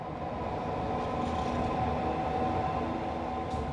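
Railway wagons rolling onto the rail deck of a train ferry, giving a steady, continuous low rumble of rail cars at moderate distance, with a brief hiss near the end.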